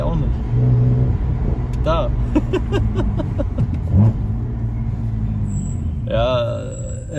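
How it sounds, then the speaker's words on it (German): A BMW 330i with the N52B30 straight-six and performance exhaust revs and burbles in a rough, uneven pattern, loud and close, with someone talking over it. "Dieser Motor macht mich einfach verrückt."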